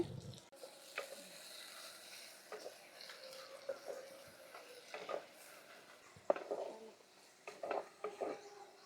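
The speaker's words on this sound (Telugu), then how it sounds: "ఉల్లిపాయ కూడా కొంచెం వేగిన తర్వాత సన్నగా తరిగి పెట్టుకున్న టమాటా ముక్కలు వేసుకుంటామండి" Chopped tomato pieces frying with onion in a pan for tomato rasam, a soft sizzle under scattered stirring scrapes and light clinks, fairly quiet and close.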